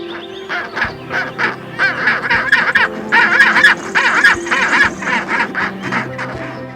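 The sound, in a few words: penguin calling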